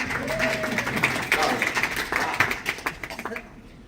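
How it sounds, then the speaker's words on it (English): A live audience at a talk on children's nutrition gives a short burst of clapping, a crowd of hands at close range that swells and then thins out, with a voice briefly audible at the start. "Round of applause for the new clicker."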